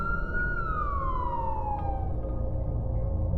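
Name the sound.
police car siren in movie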